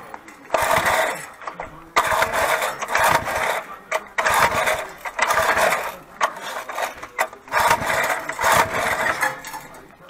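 A small motor with a wheel fallen off buzzes in uneven bursts, revving up and dropping off repeatedly, close and fairly loud.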